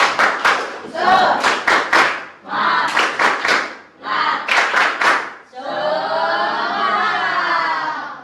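A classroom of students performs a rhythmic spirit clap in a Qur'an Hadith lesson, loud patterned bursts of clapping in four groups separated by short pauses, ending in a sustained chanted group shout.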